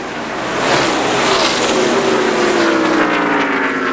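NASCAR stock cars roar down the front stretch at the 2002 Ford 400, a loud sustained engine drone with a pitch that sweeps downward as the pack passes close by.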